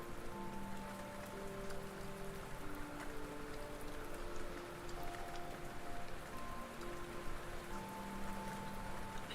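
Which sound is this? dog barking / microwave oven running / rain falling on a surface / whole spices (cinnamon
rain falling on a surface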